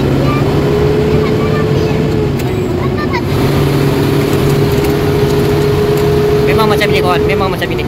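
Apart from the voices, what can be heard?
old lorry engine during gear change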